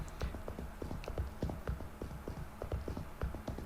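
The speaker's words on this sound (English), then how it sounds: "my footsteps are silent and yours are incredibly noisy" Footsteps in the video game Project Crypt thud in a quick, regular rhythm, sharp and fairly close though quiet overall, like hard clopping steps.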